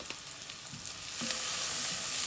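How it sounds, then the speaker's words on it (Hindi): Red chili powder, coriander powder and other spices frying in a pan for a restaurant-style paneer butter masala, a steady close sizzle that swells slightly partway through, with faint stirring scrapes and no voices. "बस इसको हम अच्छे से भूनेंगे।"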